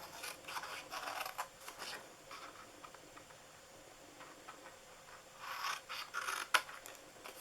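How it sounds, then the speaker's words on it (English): Scissors snipping rectangles off a paper gift box, a few bursts of close, crisp cuts separated by quiet pauses, alone without speech. "I'm going to cut down on those. Cut those off, and on this side as well."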